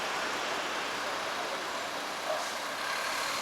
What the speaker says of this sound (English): the traffic noise isn't that much fun